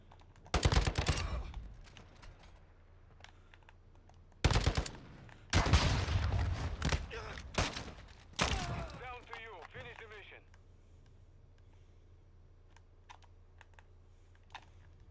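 Bursts of automatic gunfire from the video game Modern Warfare 2 come in several loud volleys, separated by quieter gaps and followed by softer game effects, with speech faintly underneath.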